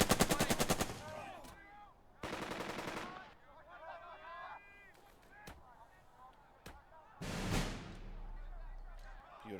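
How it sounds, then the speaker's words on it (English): Gunfire in the WWII tactics game Burden of Command: sharp bursts of machine-gun fire and single rifle shots, some rapid rattling strings, others isolated cracks, with a voice speaking between the volleys. "Shoot him again. Keep firing."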